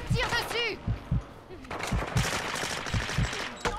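Bursts of gunfire in the video game Warzone during a team match, sharp repeated reports scattered through the clip under excited French-speaking voices talking over them.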